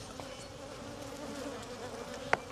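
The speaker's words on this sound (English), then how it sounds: "Look at all the beetles." Beetles buzzing around a yard, a steady low insect drone held throughout with a short sharp tick near the end.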